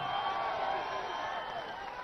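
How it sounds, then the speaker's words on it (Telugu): Crowd at a public meeting in Kurnool applauds steadily throughout, a dense, even wash of clapping and cheering with no break. "ఒక్కసారి ఫరూక్ అబ్దుల్లా గారిని అభినందిస్తూ గట్టిగా చప్పట్లు కొట్టి అభినందించాలి"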